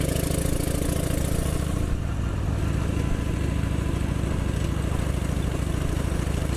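A motorcycle engine drones loud and close throughout a ride, with steady wind rush and a slight shift in tone about two seconds in.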